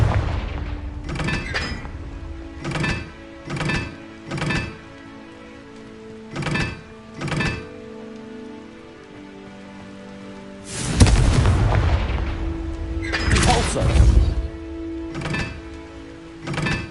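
Blasting-spell explosions in a wizard duel, a series of sharp, loud bursts spaced a second or two apart, with a heavier, longer rumbling blast cluster toward the end over a steady ambient bed.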